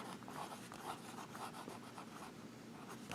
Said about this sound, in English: And this is Lamy All-Star.